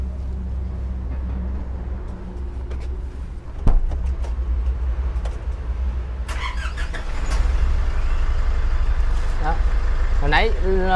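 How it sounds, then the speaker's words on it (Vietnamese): A Nissan light truck engine idles with a deep, steady rumble that swells louder partway through; a voice speaks over it near the end. "tiếng động cơ con Nissan nó sẽ to hơn"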